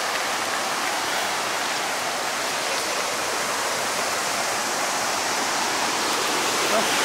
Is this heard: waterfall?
yes